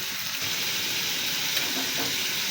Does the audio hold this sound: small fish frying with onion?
yes